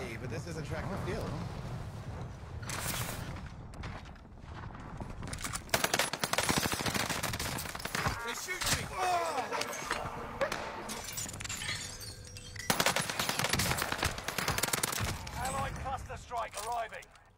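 Rapid bursts of gunfire and shattering crashes from a track and field video game, loud and busy throughout, mixed with game noise and a voice talking over it.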